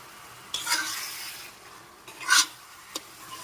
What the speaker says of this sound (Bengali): এবার আমি দিয়ে দিচ্ছি ম্যারিনেট করা মটনটা দশ মিনিট প্রথমে একটু নেড়ে চেড়ে কষিয়ে নেব আমি